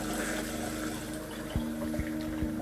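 Steady rush of water running from a bathroom sink faucet in a Riverstone luxury fifth wheel RV during winterizing, continuous and close, with faint low pump-like tones underneath.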